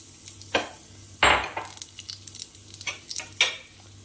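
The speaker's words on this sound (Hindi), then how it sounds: "अब इसको भी धीमी आंच पर अच्छे से रोस्ट करना है।" Peanuts roast in ghee in a pan over low heat, with a faint steady sizzle broken by a few sharp scrapes and stirring clatters close by.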